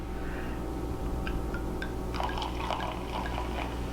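Freshly poured champagne fizzing in a measuring cup, a soft continuous hiss of bubbles with scattered tiny pops and drips, close and quiet, over a faint background hum.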